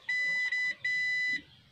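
A piezo buzzer on a Bluetooth speaker's circuit board being tested for a short, giving two steady high-pitched beeps, the first briefly broken, loud and close with no talking.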